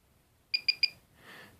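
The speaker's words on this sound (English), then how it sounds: "You heard that double beep?" An RGB/VGA switch rejecting a button press emits three short, sharp electronic beeps in quick succession, followed by a soft brief noise, in a quiet room.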